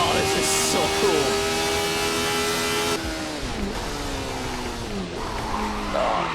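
An F1-style race car in the Assetto Corsa racing game on a Le Mans circuit, oversteering and sliding: loud, steady engine whine with sustained tire squeal, the pitch sweeping down and then shifting partway through, close and continuous.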